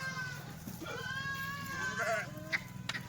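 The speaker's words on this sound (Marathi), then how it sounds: "खाली कोकरू बघा" Several Kathiawari sheep and lambs bleat in overlapping wavering cries, fairly close, over a steady low background hum.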